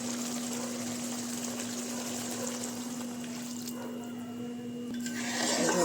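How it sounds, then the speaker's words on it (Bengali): Water pours steadily into a pan of mustard fish curry, a continuous close hiss and splash with a faint steady hum underneath. "এবার আমি জলটা দিয়ে দিলাম"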